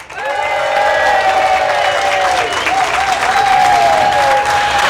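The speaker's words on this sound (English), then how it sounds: "put your hands together and make the most amount of noise possible for Mr. Kaleb Cooper." Loud, sustained applause with crowd cheering and whistles at a cookalong event, steady throughout with no break.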